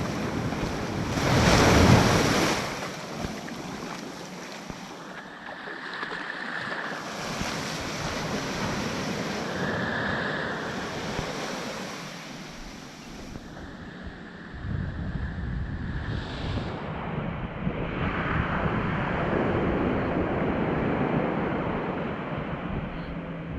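Waves rolling onto the beach at Hawksnest Bay, a continuous loud surf wash mixed with heavy wind buffeting the microphone, surging and easing over the stretch.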